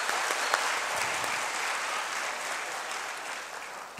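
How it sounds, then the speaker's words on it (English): Applause from a large audience at a 2019 graduation ceremony, a continuous, fairly distant wash of clapping that holds steady and tapers slightly toward the end. "Please, everyone, give yourself a big round of applause."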